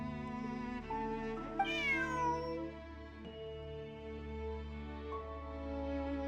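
Bonnie, Pierre's cat in Genshin Impact, gives one clear, close meow with a rising-falling pitch over a steady, sustained music bed, with no talking.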